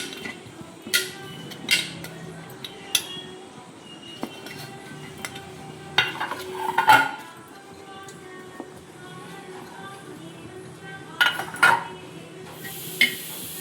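Steel idli plates being greased with oil in a home kitchen give off scattered metallic clinks and taps, some sharp and ringing, spaced irregularly against a quiet background.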